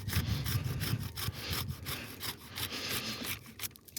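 A hand saw cuts through a fruit tree branch during spring pruning in Tennessee, giving close rhythmic rasping strokes of the blade that ease off toward the end.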